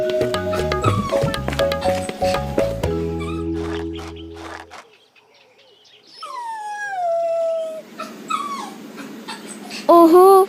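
Small cartoon puppies whimpering and yipping in a series of high, wavering whines after a stretch of music, fairly loud and close with no speech.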